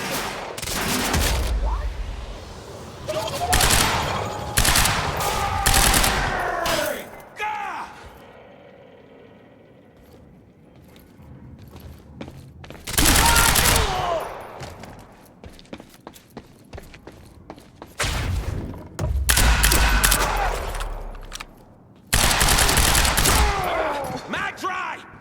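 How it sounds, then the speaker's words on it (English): Loud bursts of gunfire in the video game Quantum Break, automatic volleys recurring in several clusters with quieter stretches of combat ambience between them. "Suppressing fire!"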